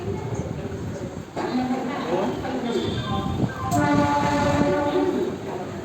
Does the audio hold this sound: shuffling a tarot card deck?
no